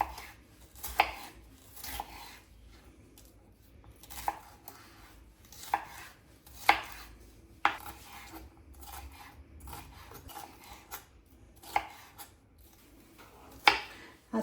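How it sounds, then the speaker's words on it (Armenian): Knife chopping bell peppers into small cubes on a board, a series of crisp, irregular taps near and fairly quiet, with soft scraping between strokes and no talk. "Ահա, պղպեղները կտրատելու եմ մանր խորանարդների նման։"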